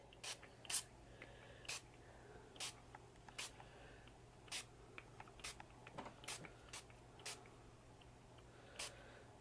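Short, sharp bursts of colour mist are sprayed one after another from the side onto a mixed media tag, each puff brief and close against a quiet room background.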